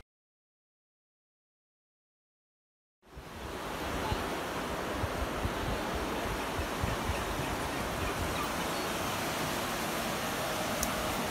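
Atlantic ocean surf on a beach at Vila Nova de Milfontes, Portugal, where the Mira river meets the sea: after a silent start, a steady broad wash of waves rolls in and holds at an even, moderate level.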